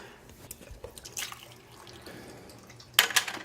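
Water draining from the bottom drain of an inground swimming pool filter: soft irregular drips and trickles close by, ending in a brief louder splash of liquid.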